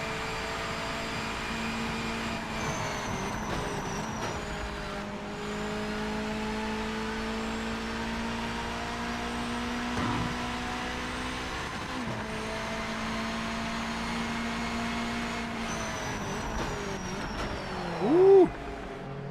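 Mazda MX-5 race car in the Project Motor Racing sim, its engine droning at a steady, moderate level throughout with slight pitch shifts and a brief louder rise near the end; no voices.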